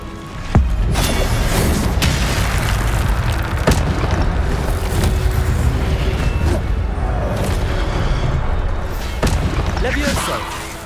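Fire spell casting in Hogwarts Legacy, loud whooshing booms and thudding bursts over a dense roaring bed of combat noise, with a few sharp hits standing out and voices shouting amid the action.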